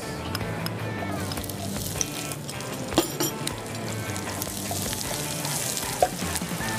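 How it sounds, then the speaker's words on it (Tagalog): Onion sautéing in a little cooking oil in a pan for a Filipino dish, a steady broadband sizzle running throughout with a couple of sharp clinks of a utensil against the pan. "Gigisa lang natin ng mabuti."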